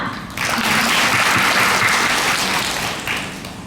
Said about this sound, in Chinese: 給鼓掌